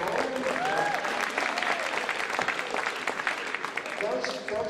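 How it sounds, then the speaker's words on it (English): Applause from an audience cheering couples at a high school grand march, crowd clapping mixed with an announcer talking over it and faint whistles, fairly steady in level. "So let's give all of our couples a big round of applause every time and keep going."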